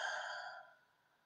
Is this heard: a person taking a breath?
yes